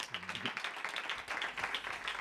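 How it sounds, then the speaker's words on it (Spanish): An audience at an acoustic concert applauds the band's bass player, a fairly faint patter of many hands clapping steadily for a couple of seconds. "Un aplauso"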